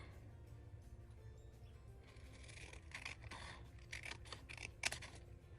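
Scissors cut a paper journaling card, giving faint close snips and crisp crunching cuts that grow denser in the second half, over a quiet room.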